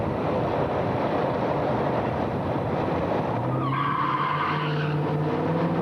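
Tires of a 1964 Pontiac GTO skid at a 1988 drag race, a loud sustained roar of engine and tire noise with rising whine tones joining partway through, no talk.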